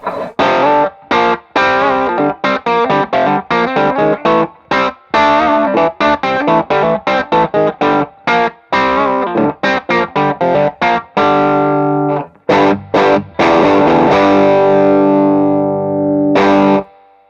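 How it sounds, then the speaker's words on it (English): Overdriven electric guitar through a Tube Screamer overdrive pedal with a warm, rounded crunch, playing choppy staccato chords and riffs, then ringing out into sustained chords near the end. "it does have that really nice, rounded, warm tube screamer sound that we know and love"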